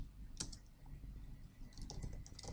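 Typing on a computer keyboard while working on a spreadsheet exercise, a few scattered, fairly faint key clicks and taps in short bursts over a quiet background, with no talking.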